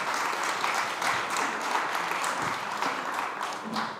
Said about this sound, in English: Please give these panelists a round of applause.